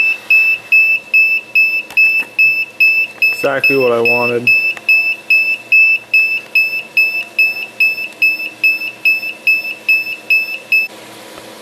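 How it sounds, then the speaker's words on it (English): A high-temperature alarm on a DIY electric hot tub heater beeps rapidly and steadily, a loud shrill tone repeating about twice a second through the whole stretch, while someone speaks briefly over it. "high temp alarm is going crazy."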